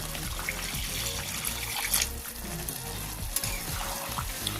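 Water is poured into a pan of cooking mushrooms, giving a steady splashing, sizzling wash that runs throughout at moderate level.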